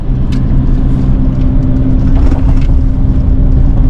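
A car cruises across a bridge in heavy traffic past a broken-down 18-wheeler, its engine and road roar forming a loud, steady drone with a faint hint of passing vehicles.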